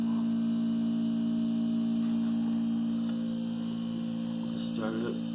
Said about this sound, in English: when I started pressing the buttons in the cycle, the compressor went on